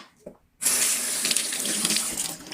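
Tap water gushes steadily into a sink, rinsing an oxidized metal pendant, a close, continuous splashing stream that starts abruptly and runs without pause.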